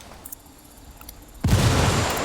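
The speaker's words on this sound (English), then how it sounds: "That explosion's got him suspicious." A frag grenade detonates in Ghost Recon Wildlands, one sudden loud blast that follows a quiet ambient stretch and rolls out in a sustained rumbling roar.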